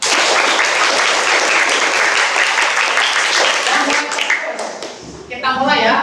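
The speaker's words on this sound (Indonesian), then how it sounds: "Beri tepuk tangan." A roomful of people applauds loudly and continuously before the clapping trails off and a voice starts to speak.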